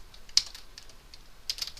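Sharp keystrokes clatter on a computer keyboard: a loud isolated tap, then a few scattered lighter presses and a quick pair near the end, with no voice.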